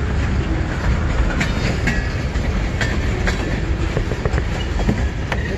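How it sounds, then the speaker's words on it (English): A westbound freight train rolls past at close range near Emmett, Michigan, its steady rumble carrying rhythmic wheel clicks and faint metallic squeals throughout. "Oh, westbound's coming."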